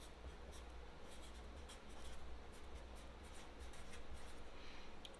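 A pen writes on a kindness rock, a close, steady scratching and rubbing across a hard stone surface with brief strokes and pauses, faint overall and free of talk.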